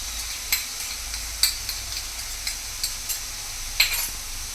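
Hand-pounded ginger garlic paste fries in a pan while oats upma is being made. A steady, close sizzle runs throughout, broken by irregular scraping strokes of a spoon stirring the paste.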